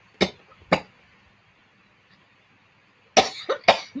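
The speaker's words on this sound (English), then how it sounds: "Watching me cough." Coughs sound close and loud, two single coughs followed by a quick burst of three, with quiet room tone between.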